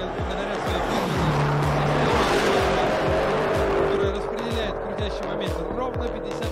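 Audi and BMW race cars launching off the start line in a 2016 comparison, engines roaring loudly and constantly with rising revs and a brief tire squeal, all under continuous commentary.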